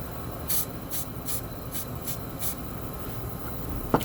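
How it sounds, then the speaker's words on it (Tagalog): Spray paint hisses onto a stencil in a series of short, even bursts about half a second apart against steady background noise, then stops, and a sharp click follows. "Spray din natin konti."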